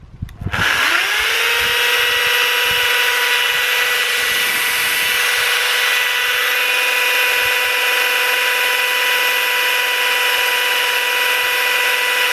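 Angle grinder fitted with a chainsaw attachment starts up and runs at maximum speed, a loud steady high-pitched whine held close and alone after a brief startup.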